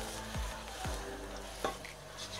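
Biryani masala with garam masala powder sautés in a pan, a soft sizzle broken by a few quick scraping strokes of a spoon, quiet and close.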